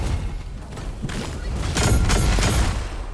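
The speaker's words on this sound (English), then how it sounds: "That was my armor explosion, by the way." An armor explosion bursts in the Raiders of Blackveil video game during a max-difficulty fight, a loud crashing blast and rumble that swells midway amid clattering combat noise, with no talk.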